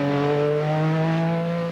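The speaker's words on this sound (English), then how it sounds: "John comes up to the slowest part of the course, accelerates away, plenty of traction from the four-wheel drive" An MG Metro 6R4 four-wheel-drive rally car from a 1985 Austin Rover rallysprint accelerates hard away from a slow corner, a loud, close engine note rising steadily in pitch before cutting off.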